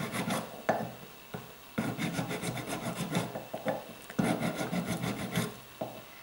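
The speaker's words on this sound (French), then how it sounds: "on va essayer gentiment de râper jusqu'à ce qu'on arrive à nos démarcations qu'on a faites tout à l'heure" Steady rasping of a file's rounded side worked over a block of casting wax, in repeated close strokes with short pauses between passes, no talking.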